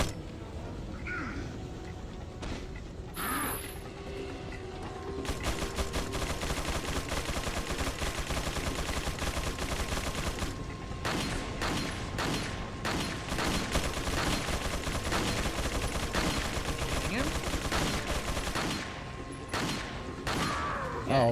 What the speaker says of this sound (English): Oh, Chain Gun Charlie